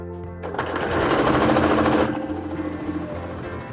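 A sewing machine stitches a fabric face mask in one fast, loud, continuous run that slows and softens toward the end.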